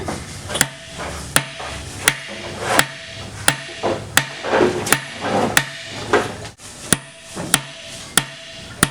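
A hammer strikes a chisel against a nut during a transmission teardown: about a dozen sharp metallic blows at a steady rhythm, close and loud, with faint rattling between hits.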